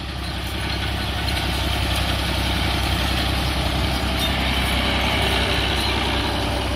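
An Al Ghazi tractor pulling a reaper binder through a wheat field runs at a steady pace, its engine giving a constant low chugging drone with a mechanical clatter over it, no talking.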